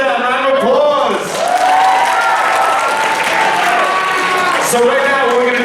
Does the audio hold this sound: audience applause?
yes